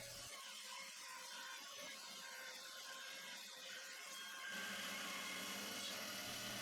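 A band saw trims the sharp corners off a wood and resin burl blank at the limit of its cutting capacity, giving a steady close whine that grows louder and denser near the end as the blade bites deeper.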